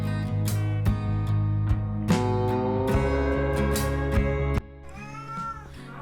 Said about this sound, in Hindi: इसने मियाऊं मियाऊं करके अंदर बुला दिया है।